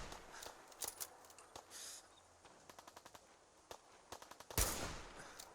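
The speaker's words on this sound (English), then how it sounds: "I hear gunfire." Bursts of automatic gunfire crackle in Fallout 4, several quick rattling volleys and single shots at moderate distance, fairly quiet overall, with one louder sharp blast near the end.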